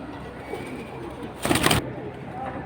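Pigeons for sale coo softly and close by, with a brief fluttering burst in the middle of the soft murmur.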